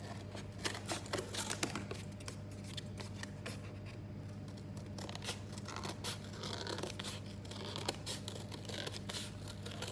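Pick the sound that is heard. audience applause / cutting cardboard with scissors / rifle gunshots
cutting cardboard with scissors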